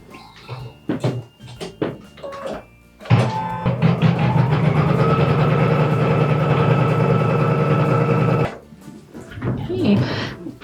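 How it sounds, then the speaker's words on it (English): An embroidery machine stitches a batting placement line in a steady, close, buzzing whir that runs for about five seconds. Someone talks before and after it. "I'm going to go ahead and stitch the placement line for the batting"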